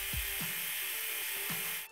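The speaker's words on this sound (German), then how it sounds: "Auch ist der Rasierer mit um die 59 Dezibel einer der leisesten in unserem Test." A Philips Series 3000 electric shaver (S323) hums steadily at close range with a high-pitched, slightly rattly buzz and a few soft scraping strokes, cutting off at the end.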